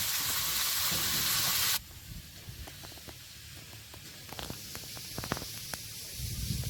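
Chopped onion with whole cumin, whole garam masala and bay leaves frying in oil, starting as a loud, hissing sizzle that drops after a moment to a softer steady fry broken by scattered clinks and scrapes.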